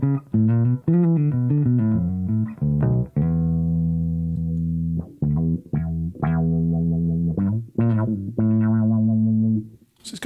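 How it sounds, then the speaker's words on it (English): American Special Fender Jazz Bass, neck pickup full and bridge pickup slightly lower, played through a 3 Leaf Audio Proton v3 envelope filter pedal, giving loud quacky sweeping notes in a rhythmic phrase with sustained held tones and short plucked bursts. "playing my American Special Fender jazz bass with the neck pickup all the way up, the bridge pickup not quite all the way up"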